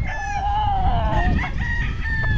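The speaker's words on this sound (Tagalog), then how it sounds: "Ang dami silang alagang manok." A rooster crows loudly nearby while chickens cluck around it, with farmyard background noise.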